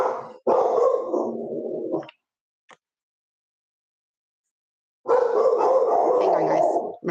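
Dogs bark from another room, a burst of rough barking followed by a pause and then another sustained round, somewhat muffled by distance.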